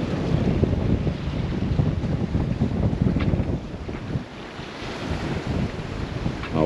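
Steady roar of ocean surf and gusting wind buffeting the microphone aboard a sailboat entering a Polynesian atoll pass, loud and continuous, with water sloshing and no talking.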